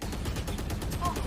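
Rapid gunfire rattles in Valorant as a player shoots at enemy utility, a steady burst of close shots with a voice talking faintly underneath.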